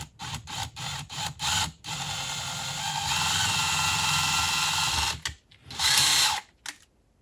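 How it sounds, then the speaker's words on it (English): A power drill drilling into drywall whirs in short bursts, then runs steadily for a few seconds, stops, and gives one final loud burst, close up. "and slowly drill into the drywall."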